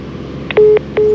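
A mobile phone carried aloft by a drone loses its call at about 384 metres, out of range, giving a short chirp and then two loud, steady electronic disconnect beeps with a brief gap between them.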